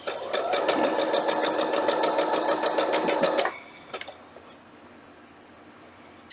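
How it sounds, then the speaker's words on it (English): A sewing machine stitches pellon interfacing onto quilt fabric arcs in a fast, steady, close rattle for about three seconds, then stops abruptly, leaving quiet room noise and a few faint clicks. "You just sew on the line."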